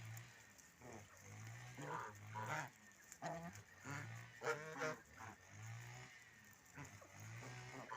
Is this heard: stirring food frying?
no